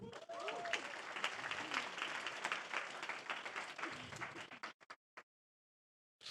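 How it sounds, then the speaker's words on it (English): Audience at a design club evening breaks into a dense round of applause for about four and a half seconds, with a few lingering claps before it dies into silence. "A little round of applause there."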